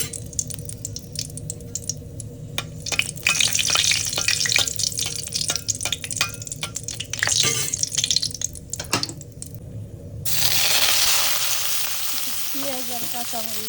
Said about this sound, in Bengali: এখন দুটো শুকনো মরিচ দিয়ে দেবো তেলের পর